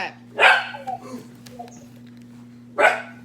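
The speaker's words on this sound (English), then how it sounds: "The dog's been so good, and now he's starting to freak out." An agitated dog barks in two sharp bursts, one near the start and one near the end, with a quiet gap and a low steady hum between them.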